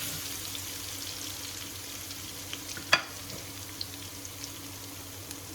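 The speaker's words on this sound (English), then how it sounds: "Let those chilies sizzle for a little bit." A steady, close crackling hiss of dry chilies frying in hot oil for a potato and pea samosa filling, with a single sharp tap of a utensil partway through.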